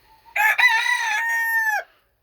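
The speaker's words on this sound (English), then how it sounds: "That's Stanley, my big rooster." A big backyard rooster crows once, loud and close, a single drawn-out cock-a-doodle-doo lasting over a second and ending abruptly, in otherwise quiet surroundings.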